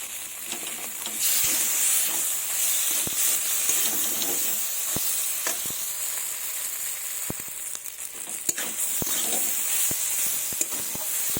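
Spicy soybean chunks stir-fry in a pan with a steady loud sizzle and hiss, broken by occasional sharp scrapes and taps of the spatula.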